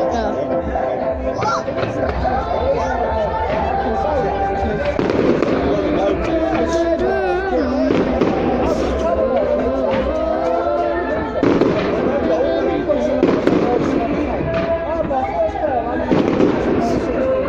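Bonfire-night fireworks burst and crackle continuously in a dense, loud barrage, with sharp bangs and popping layered over a chattering crowd and voices nearby.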